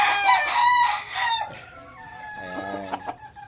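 A big-boned rooster crows once, loud and close, with a long harmonic call, then a quieter trailing crow and a few clucks.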